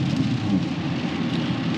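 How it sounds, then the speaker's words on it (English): Heavy rain pours steadily during an ice storm, a dense, loud wash of drops with a low rumble of thunder underneath and no voices. "it's raining so hard"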